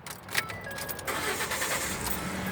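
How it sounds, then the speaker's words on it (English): A 2012 Ford F150 pickup truck engine cranking and catching after a fuse is replaced, with a brief key jingle first, then the motor firing and settling into a steady, loud idle close by. "The engine is running."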